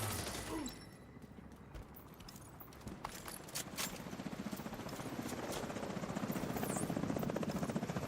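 Helicopter in The Division video game, a steady rotor chop that swells louder toward the end, with broadband engine noise and scattered impacts, no talking.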